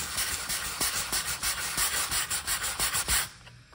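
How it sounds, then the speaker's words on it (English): Hand sanding a dried lightweight spackling patch on a wall: quiet rhythmic rubbing strokes, close and fairly even, before a brief pause at the end. "So I'll just have to sand a bit more here so it bends more with the rest of the wall."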